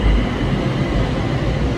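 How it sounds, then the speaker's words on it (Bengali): A BTS Skytrain pulls into Siam station in Bangkok, producing a loud, steady low rumble and rushing noise close by on the elevated platform, with no voices. "আমাদের ট্রেন চলে আসছে, সিয়াম বিটিএস যে ট্রেনটা,"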